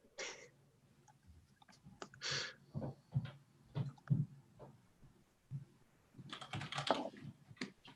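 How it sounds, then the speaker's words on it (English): Fast, uneven typing on a computer keyboard, with clustered key clicks and short pauses close to the microphone in a quiet room, ahead of a video-call team meeting. "I'm gonna like type out the update notes before we start the recording,"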